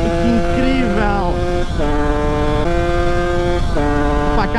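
A DTR 125 two-stroke motorcycle engine pulls hard uphill, its buzzing whine rising in pitch through repeated revs with brief dips between gears, loud and close.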